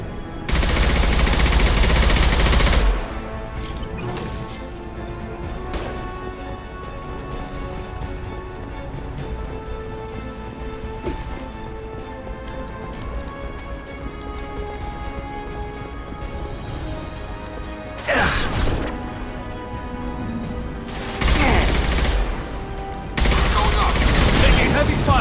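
Heavy automatic gunfire from Mass Effect 2, sustained machine-gun bursts with loud blasts opening the stretch and returning near the end, under a steady dense background of combat noise.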